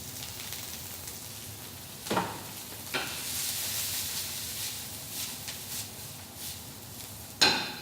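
Chopped garlic and diced chilli sizzle in a pan in a home kitchen, a soft steady hiss with a few sharper clatters of ingredients landing and stirring, fairly quiet and with no talking.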